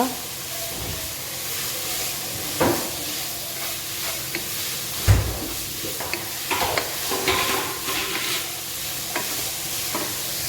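Fried rice being stirred in a pan after pepper powder is added, with a soft sizzle and scraping stirs, a few sharper spatula knocks standing out against the steady frying hiss.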